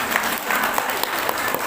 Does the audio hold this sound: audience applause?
yes